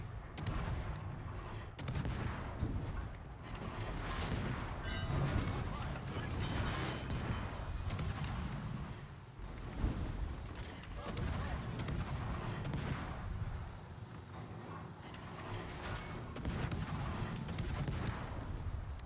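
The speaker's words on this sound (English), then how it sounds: "Yeah, like the guns feel so good. Especially the AP shells." Naval guns fire AP shells in World of Warships, heavy booming salvos repeating over a constant low rumble of battle for the full stretch.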